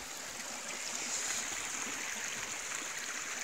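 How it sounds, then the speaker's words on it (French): A small river flows close by, a steady broadband rush of running water that holds evenly throughout with no other sounds over it. "là si tu entends, la rivière elle est juste là"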